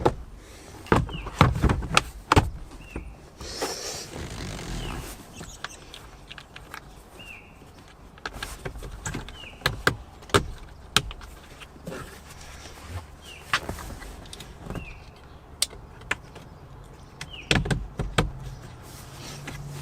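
A plastic glove box is pushed back into the dash of a Chevy Colorado ZR2 V6 during a cabin air filter change, with a series of sharp, close clicks, snaps and knocks scattered irregularly among quieter handling noises.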